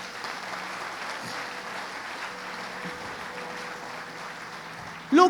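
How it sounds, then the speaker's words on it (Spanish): A church congregation applauds Jesus during a sermon. The clapping is soft and continuous, a distant, steady wash of many hands, ending with a sudden louder burst right at the close. "Dale un fuerte aplauso a Jesús."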